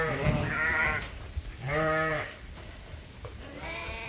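Sheep and lambs bleating while being moved to a new spot on a farm, three or four drawn-out calls from nearby animals separated by short pauses, with soft farmyard background noise.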